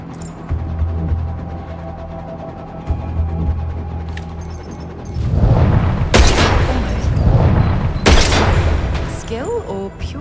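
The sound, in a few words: gunshots at a target in the video game 007 First Light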